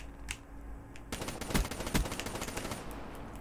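Rapid, loud gunfire, including shotgun blasts, in a Call of Duty Black Ops 3 Gun Game match, with dense repeated shots and two heavier booms standing out near the middle.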